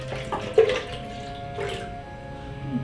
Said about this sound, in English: pour about 2 1/4 cups of water into my blender